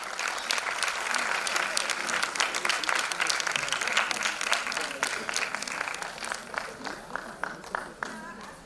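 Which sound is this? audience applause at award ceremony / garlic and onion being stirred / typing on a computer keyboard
audience applause at award ceremony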